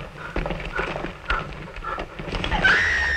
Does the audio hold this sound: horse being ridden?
yes